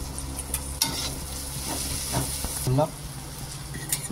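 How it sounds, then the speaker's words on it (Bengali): Egg fries in a pan with onion, green chili and tomato, a steady close sizzle running throughout with occasional stirring scrapes and a brief louder hiss. "এবার আস্তে আস্তে ফ্রাই হবে ডিমটা।"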